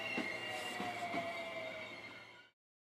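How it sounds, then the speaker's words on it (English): A steam train standing still close by, with hissing steam and high metallic squeals ringing over a low rumble, then cutting off abruptly. "From outside came the sounds of hissing steam and squeaking metal"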